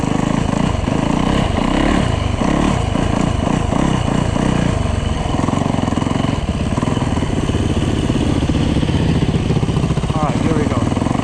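Yamaha dirt bike (YZ450F or WR250F) riding in snow, its single-cylinder engine loud and close with a continuous rough drone and shifting revs, a voice talking over it early on.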